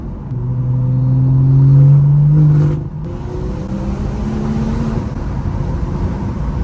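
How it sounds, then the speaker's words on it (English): A 440 hp B58-engined BMW M240i drones and revs up to a steady, resonant exhaust note, then eases off into a lower rumbling cruise with some whooshing air intake noise, heard with windows slightly down. "We'll put the windows down slightly for you guys to hear this exhaust and hopefully the air intake."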